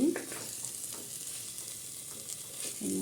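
Onions and spices sautéing in a pan for a fish kulambu with mixed fish, giving a steady soft sizzle and frying crackle. A stirring scrape comes near the start and again at the end, and no one speaks.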